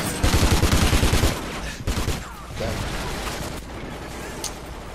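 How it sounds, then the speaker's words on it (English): Submachine gun fire in a first-person shooter video game. A rapid loud burst of automatic shots rattles for about a second, then a few more shots follow amid ongoing game noise, with a voice talking over it. "this seems like a pretty sweet submachine gun when you're in submachine gun mode"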